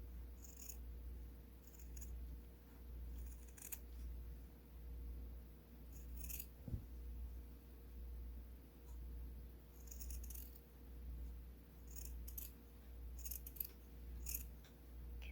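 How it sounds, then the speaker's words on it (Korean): Scissors snipping fabric for a small horse plush keychain, a series of short, crisp, fairly quiet cuts in scattered clusters over a low steady hum. "한 3mm 정도를 남기고 잘라주세요"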